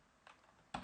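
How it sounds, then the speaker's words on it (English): Typing an nmap command on a computer keyboard: a few soft, quick key clicks close by in a quiet room, with the last press the loudest. "If I type in nmap"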